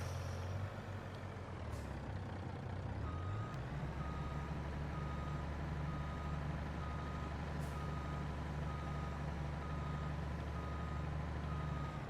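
A truck in Farming Simulator 22 reverses a trailer, its engine rumbling steadily while a repeating reversing beep sounds in an even rhythm over the idle drone, loud and continuous with no speech.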